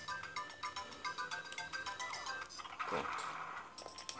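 Chiming notification tune from the Game Boy Advance game Donkey Kong Country, a bright repeating melodic jingle with a brief swelling sweep near the end, heard alone at moderate level.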